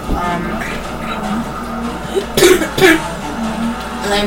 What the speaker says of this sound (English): that cough was just me choking on my own saliva